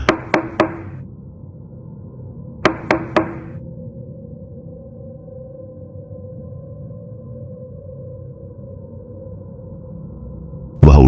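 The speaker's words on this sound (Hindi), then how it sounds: "तभी दरवाजे पर खटखटाने की आवाज हुई।" Two sets of three quick, sharp knocks on a wooden door at night, clear and fairly close, over a low steady room hum, with a brief loud burst at the very end.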